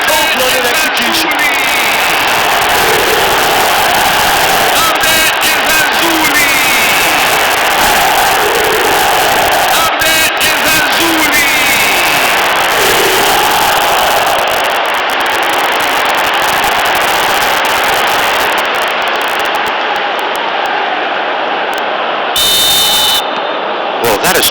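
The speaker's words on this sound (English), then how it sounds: "Now the crowd are demanding that they just finish this off." A dense stadium crowd at the AFCON semi-final between Morocco and Ivory Coast roars steadily and loudly throughout, with a droning horn-like buzz and chanting swells that thin out near the end.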